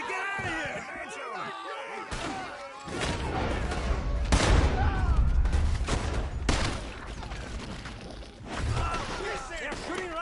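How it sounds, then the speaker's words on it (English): Bursts of gunfire from a shootout in Red Dead Redemption 2, loud and repeated in clustered volleys, with shouting voices over the shots throughout. "They're shooting right at you!"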